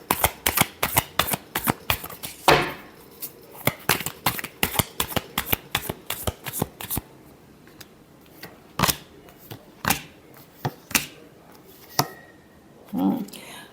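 Tarot cards are shuffled in quick, crisp riffles and slaps, a rapid run of sharp snaps followed by sparser taps, close to the listener.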